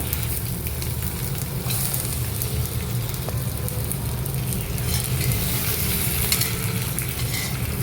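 Salted, rinsed brinjal pieces sauté loudly in a pan, giving a dense, continuous sizzle and crackle while being stirred, close up and without voices.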